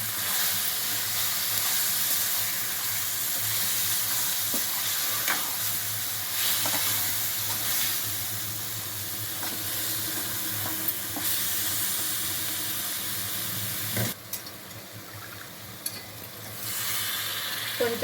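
Chicken gravy curry with masala, chilli powder and yogurt sizzles steadily in a pan over a lowered flame while a spoon stirs it, with scraping and clinks rising now and then above the continuous hiss; no talking.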